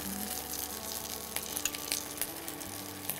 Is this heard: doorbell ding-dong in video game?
no